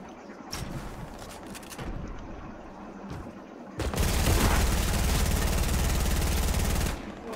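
Rapid automatic fire from a P90 in a squads video game mode, a dense sustained burst of shots lasting a few seconds after scattered quieter game noise.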